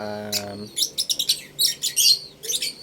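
A short low voice-like tone, then small birds chirping in quick, bright bursts, several tweets in irregular clusters, close and clear.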